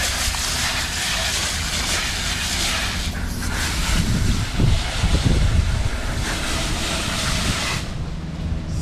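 Water rinses out an Anker EverFrost portable cooler, a continuous splashing and gushing rush with heavier sloshing surges midway, close to the microphone.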